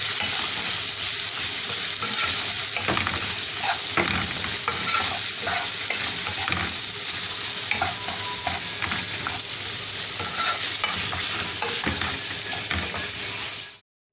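Chicken breast fries in a pan with spices while being stirred, a close, continuous sizzle with scraping and clattering of the utensil throughout, cutting off abruptly at the end.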